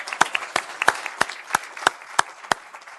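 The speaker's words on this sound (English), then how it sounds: "And I want another round of applause for this school." Applause at a city council meeting in honor of a school: sharp, fairly sparse claps from a small group, falling into a steady, evenly spaced rhythm, moderately close.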